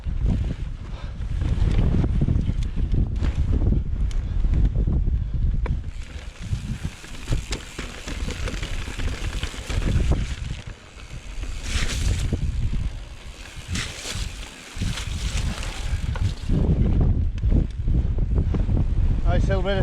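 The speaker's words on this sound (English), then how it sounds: "Out on the moor now with the wind behind us." Wind roars across an open moor beyond Hamsterley Forest in County Durham during a mountain bike descent, a loud, constant buffeting rush against the microphone that swells and dips throughout, with voices heard faintly beneath it.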